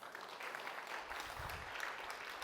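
Room of conference attendees applauding at the end of a technical session, a brief, dense wash of clapping heard fairly faint and distant.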